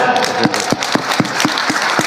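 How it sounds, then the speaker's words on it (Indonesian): An audience at an Islamic religious lecture claps together in a rhythmic beat, about four evenly spaced claps per second, loud and close over a faint crowd murmur. "tepuk tangan"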